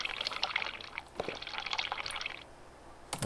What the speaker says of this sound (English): so I'm just going to drink this.